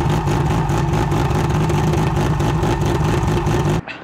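Loud, rough big-cam 3.2-litre forged, stroked RB30 six-cylinder engine idling close up with a lumpy, loping rhythm, running steadily before cutting off abruptly near the end.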